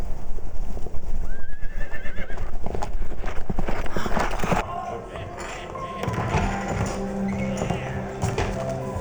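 Horse hooves clopping and a horse whinnying in a Western film sound mix with saloon and outdoor scenes. Dense, busy layers of hoofbeats and thuds sit under voices, then settle into a quieter, steadier bed of sound.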